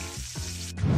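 Cartoon deep-fryer sizzle from an SMG4 animated gag where a person is fried whole, a dense crackling hiss running steadily through the moment and swelling louder near the end, with no talk over it.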